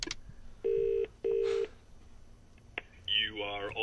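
A telephone is dialed with two sustained tone bursts in a row, followed by a soft click and a short burst of brighter noise with a voice at the end.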